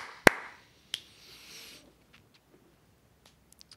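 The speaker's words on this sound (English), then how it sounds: "I'm going to clap real quick" A single sharp hand clap rings out close and loud in a quiet room, followed by a softer second tap and a few faint small clicks.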